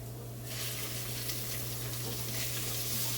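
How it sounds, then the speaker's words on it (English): Strips of flank steak sizzle in a pan with onions, a steady loud frying hiss that continues without pause, with faint stirring beneath it. "I'm gonna go ahead and add it with the onions"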